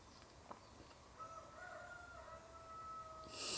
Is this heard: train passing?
no